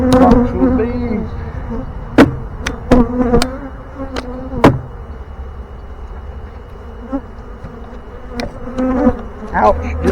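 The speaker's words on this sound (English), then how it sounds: "Box full of bees." A dense honey bee swarm buzzes continuously in a box, with sharp knocks and thumps breaking through now and then, close by and fairly loud.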